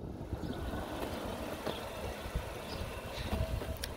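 A 2020 Acura RDX SH-AWD with all-wheel drive idles smoothly, a steady low engine hum heard close and fairly quiet, alone without any voices.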